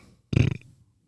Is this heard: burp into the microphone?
yes